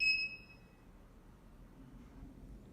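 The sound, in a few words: beep of HDMI matrix switch switching source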